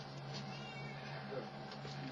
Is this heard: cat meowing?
yes